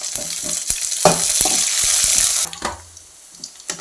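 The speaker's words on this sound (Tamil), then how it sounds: "இந்த ஸ்டேஜ் வந்ததும் கருவேப்பிலை போட்டு வதக்கலாம்." Onions and curry leaves sauté in a hot pan while cooking a bitter gourd dish: a loud, steady close sizzle with sharp utensil clicks and scrapes from stirring, then the hiss drops away to quieter crackles and occasional taps.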